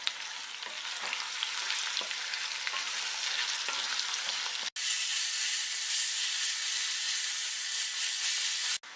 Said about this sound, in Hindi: मैं इसमें डालूंगी कटे हुए प्याज और इस प्याज को हमें ब्राउन होने तक भून के तैयार करना